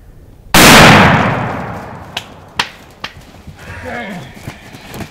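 A single loud, close shotgun blast rings out during a Missouri youth-season turkey hunt, its report decaying over about a second, followed by faint rustling and a few sharp thumps and taps.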